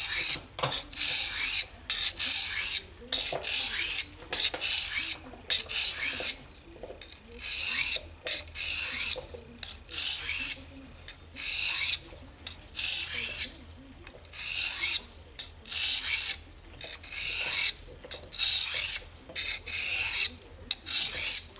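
A knife is sharpened on an Eze-Lap 600 grit diamond stone with about twenty rhythmic rasping strokes, each a close, bright scrape separated by short pauses, with no talking.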